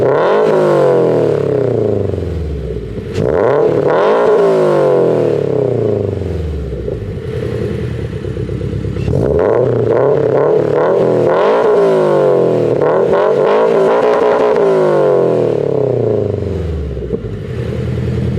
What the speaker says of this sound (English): Hopefully this is a good example of what the car sounds like.